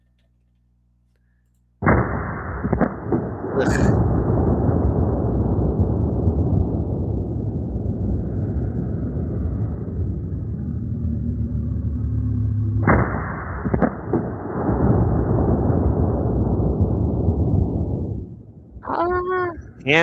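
A Kraken Nock seven-barrel volley gun goes off with a huge roaring blast that rumbles for seconds, then a second explosive burst follows, loud and close, with a brief spoken word and clatter near the end.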